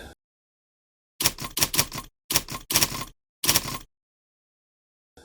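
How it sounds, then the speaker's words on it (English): Typewriter typing sound effect made in CapCut for animated text, with rapid bursts of sharp mechanical key clacks in several separate clusters and clean silence between them. "how you can create a typewriter text effect in CapCut"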